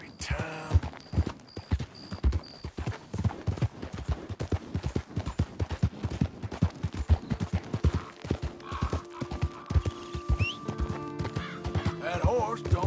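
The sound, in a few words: horse hooves in video game Red Dead Redemption 2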